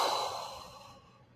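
A single soft exhale, breathy and airy, fading gradually over about a second and a half, close and quiet with no talking.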